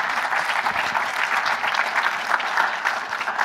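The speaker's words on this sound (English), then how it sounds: "Give them a big round of applause." Dense, even applause from a summit audience welcoming a panel, a continuous wash of many hands clapping at fairly close range, holding steady for a few seconds with no speech.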